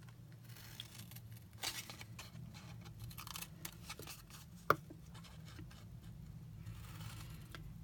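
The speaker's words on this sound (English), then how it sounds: "So you want to cut both of these small rectangles out" Scissors snip small paper rectangles out of cardstock for a Valentine heart box, quiet scattered snips and paper rustles close by with one sharper click, no voices.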